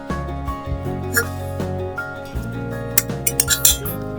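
Hot rice is served onto a plate for Konkani pithi bhat, with a spoon clinking against the dish several times, sharper clinks clustering toward the end over a low background hum.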